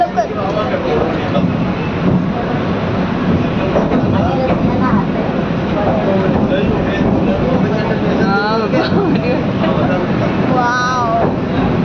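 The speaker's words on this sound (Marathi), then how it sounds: "ही ट्रेन इकडे झाली बघा" A passing train rumbles steadily along railway tracks, loud and continuous, with voices and excited chatter over the noise throughout.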